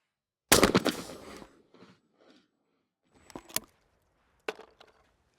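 Shotgun shots fired at Olympic skeet clay targets outdoors: a loud close blast with a long decaying tail, then a fainter shot, a sharp pair of reports a second later, and one more crack, with no talking.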